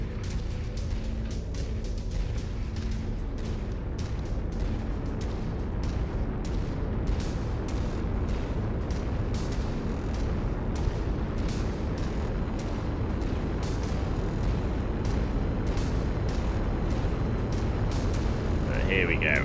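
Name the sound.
mech reactor explosion in video game MechWarrior 5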